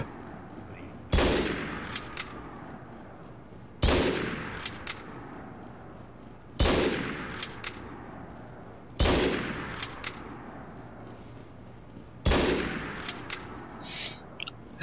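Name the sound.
sniper rifle shots in a video game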